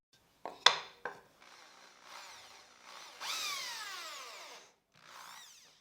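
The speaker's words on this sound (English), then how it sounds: "I'm going to drill using the handheld drill and a 2 millimeter bit" A few sharp knocks, then a handheld power drill with a 2 millimeter bit whirs in rising and falling bursts as it bores into wood, fairly quiet and close.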